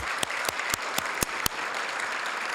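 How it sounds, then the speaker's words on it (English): A crowd at a community volunteer awards ceremony gives a steady round of applause for an honoree, dense clapping throughout with a few sharp, louder claps standing out near the front. "let's all give Ginny DiMartini a huge round of applause"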